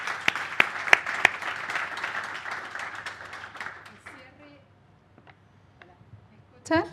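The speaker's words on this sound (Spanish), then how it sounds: "un aplauso enorme para estos panelistas" Enthusiastic audience applause for a panel at the launch event of a digital boards program in Spanish: many hands clapping with a few sharp, close claps, fading out after about four seconds into quiet with a brief voice near the end.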